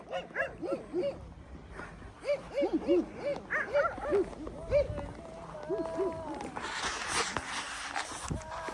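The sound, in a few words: dog barking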